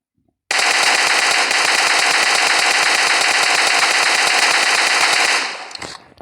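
One long, loud, sustained burst of automatic rifle fire from PUBG Mobile hammers on without pause for nearly five seconds, then tails off into a few last shots.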